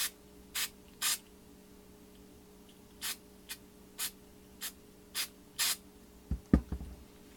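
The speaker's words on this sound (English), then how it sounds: "So what I'm going to do, spray some on here." Short sharp hissing bursts from a spray bottle of cleaner sprayed onto a ring, about ten pumps in an uneven rhythm, close and quiet, ending with a brief clatter.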